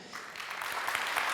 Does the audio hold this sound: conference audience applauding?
yes